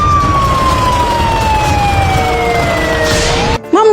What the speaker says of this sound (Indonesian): Tiba-tiba terdengar suara sirene mobil polisi mendekati mereka.